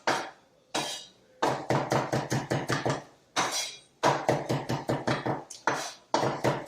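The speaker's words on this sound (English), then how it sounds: "And just a nice chop." A knife chops rapidly on a cutting board while preparing sole meunière with Dover sole, a run of quick, crisp, evenly spaced knocks broken by a few short pauses and restarts.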